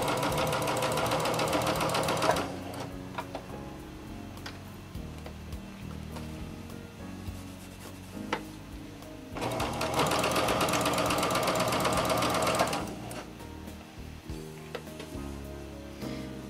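A sewing machine stitches a form-fitting seam on a T-shirt in two loud, sustained bursts of rapid whirring, with quieter handling and clicks between the runs.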